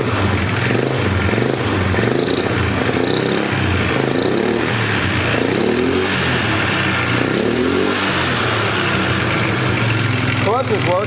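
A trashed Polaris 325 Magnum four-wheeler runs at its first start, its single engine idling roughly and rising in repeated revs, loud and close, with a voice speaking over it.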